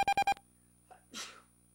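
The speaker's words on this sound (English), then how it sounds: "sorry about the sneezing" A person sneezes once after a burst of four short electronic beeps, the sneeze a brief breathy burst near the microphone at the end of a quiet stretch.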